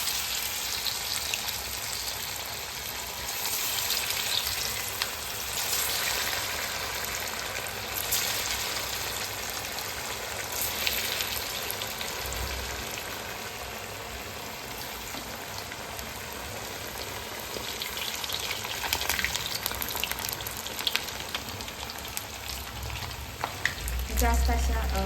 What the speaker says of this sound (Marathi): तर मी इथे कढईमध्ये तेल गरम केलेलं आहे. तर आता आपण ह्या वड्या यात छान अशा